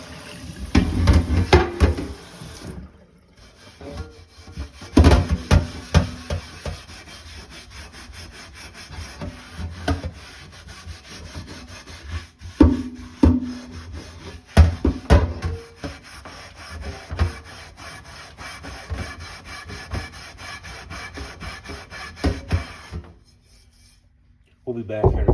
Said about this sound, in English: I'm going to keep scrubbing on what I'm doing.